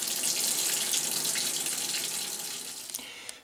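Water gushes steadily from a tap left running to purge air from a hot water tank's lines, a loud hissing flow that gradually eases off with a few small clicks near the end.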